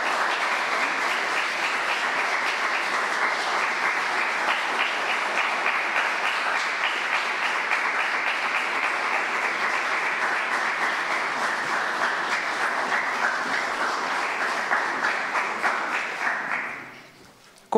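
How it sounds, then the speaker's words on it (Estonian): Sustained applause fills a hall at a school graduation ceremony in Põltsamaa, the dense clapping of a large audience holding steady and loud for a long stretch before dying away quickly at the end. "Aplaus!"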